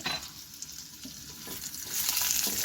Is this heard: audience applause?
no